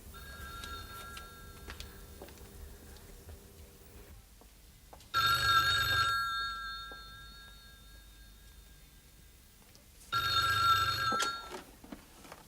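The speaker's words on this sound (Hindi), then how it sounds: "टेलीफोन की घंटी बज रही है" An old telephone bell rings in two separate bursts, each about a second or so long, with a quiet indoor pause between them.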